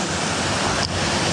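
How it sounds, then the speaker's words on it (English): Creek water rushing steadily along a hiking trail in Trail Canyon, a loud continuous broadband roar of running water close by, with no talk over it. "The fact that they have this much water running in the creek tells you the waterfall is going to have a lot of water on it."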